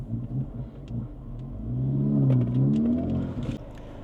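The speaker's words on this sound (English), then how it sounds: "let's go for a quick test drive" A 2024 Acura Integra Type-S with a turbocharged engine accelerates on a test drive, its engine note rising and swelling in pitch to a loud peak midway, then easing off, heard from inside the car.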